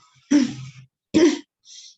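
A person coughs twice in quick succession, close and fairly loud, each a sharp throaty burst, with a faint breath or hiss after.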